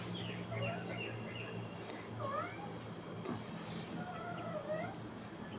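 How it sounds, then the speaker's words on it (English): Small yellow birds calling outdoors in a calm natural setting, with scattered short chirps and sweeping whistled notes over a steady low hum, some calls closer and louder than others. "The yellow birds."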